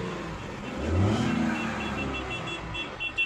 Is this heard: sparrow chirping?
no